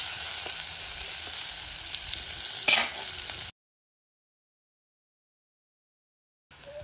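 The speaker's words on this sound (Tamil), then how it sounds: "வெங்காயம் நல்லா வதங்கட்டும்." Onions sizzle and fry in a pan for a Jaffna-style brinjal curry, a steady close hiss with a brief stir, then a few seconds of silence before the sizzling resumes.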